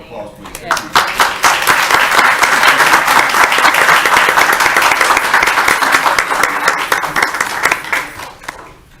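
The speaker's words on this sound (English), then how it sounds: "Round of applause, please." Applause at a town council meeting, a loud, sustained burst of many people clapping that swells quickly, holds steady for several seconds and then tapers off.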